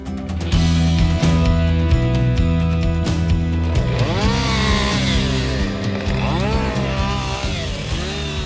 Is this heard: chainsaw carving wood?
yes